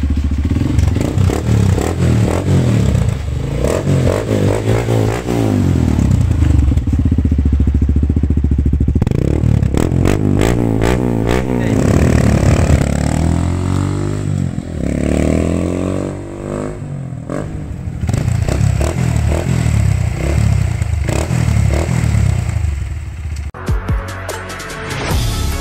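Honda CRF 150 dirt bike engine idling and revving up and down in repeated bursts, loud and close with metallic clatter, running steadily for the whole stretch before briefly dropping near the end.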